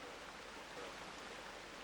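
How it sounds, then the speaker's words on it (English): A small creek tumbles down the walls of the Devil's Millhopper sinkhole in Alachua County, a faint, steady rushing and trickling of water heard alone without any talking. "This little creek tumbling down the walls of Devil's Mill Hopper"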